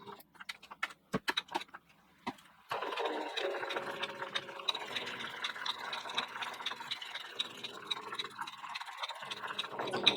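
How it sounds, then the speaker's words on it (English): Sewing machine stitching a raw edge applique quilt block: a few soft clicks and taps, then a steady, quiet, continuous whir of the needle running at close range. "I'm just going to move to the next location, bring my needle down, and start."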